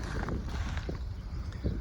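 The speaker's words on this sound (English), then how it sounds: "So apologize for the wind." Rough, gusty wind buffeting the microphone, a continuous low rumble with uneven puffs throughout.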